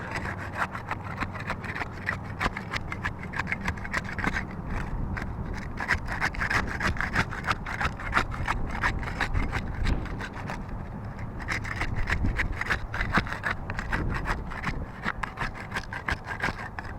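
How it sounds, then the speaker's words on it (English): A putty knife scrapes under roof shingles to break their seal, producing close, continuous rough scraping in quick repeated strokes with no talking. "getting those shingles unsealed there using the putty knife"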